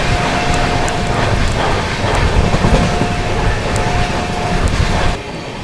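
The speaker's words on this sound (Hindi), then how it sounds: "ट्रेन अभी अपनी फ़िलहाल स्किप करने जा रही है पचौरा जंक्शन" Gitanjali Superfast Express passing through Pachora Junction, a loud steady rumble of rolling wheels and wagons with faint rhythmic clatter, a thin whistle-like tone running through, ending abruptly into quieter ambience.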